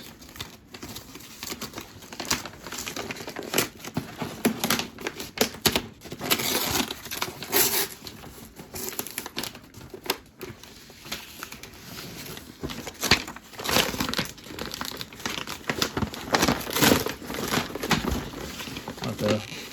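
Crinkling plastic packaging and tape handled while a taped mail package holding a Hot Wheels car is opened, giving steady close rustles and crackles with scattered sharper snaps throughout.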